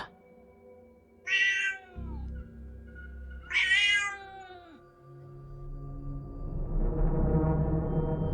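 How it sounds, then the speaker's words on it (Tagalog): A cat lets out two drawn-out, strange, wailing meows a few seconds apart, close and loud, followed by a rising low rumble of background noise. "Tumahimik ang pusa sa kakaiba niyong pagngiyaw."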